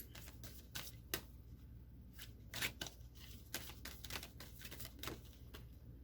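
Cards are shuffled by hand in a quiet room, a series of soft, quick riffling bursts and flicks spaced irregularly, faint and close with no talk.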